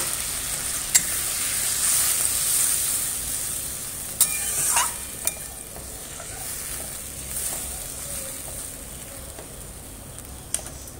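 Water poured into a pan of sizzling, well-fried spice masala for an egg curry, giving a loud, steady hiss broken by a few sharp crackles and spits, with no talking.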